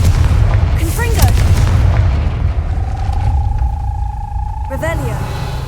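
The Confringo fire spell is cast in the video game Hogwarts Legacy, a loud booming blast with whooshing, rising tonal sweeps over a constant deep rumble, followed by a lingering hum and a second swooshing burst.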